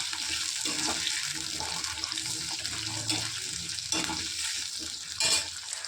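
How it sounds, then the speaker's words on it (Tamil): Garlic and onions sauté in a pan for garlic kuzhambu, a moderate hiss of frying with irregular stirring scrapes and a brief louder burst near the end. "பூண்டையும் வெங்காயத்தையும் நல்லா வதக்கிக்கிறணும்."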